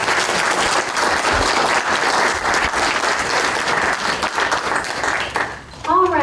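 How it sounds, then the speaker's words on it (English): A room full of people at a League of Women Voters candidate forum breaks into sustained, loud clapping that carries on evenly for several seconds, then cuts off abruptly as a voice starts speaking near the end. "And a round of applause."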